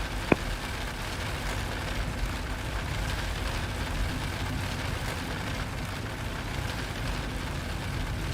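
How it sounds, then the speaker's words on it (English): Steady rain hisses as a broad, even wash of noise in a flight simulator cockpit, with the Zibo Mod 737 on a Manchester to Amsterdam flight, plus one faint click near the start and no talk. "Yeah, that was rain."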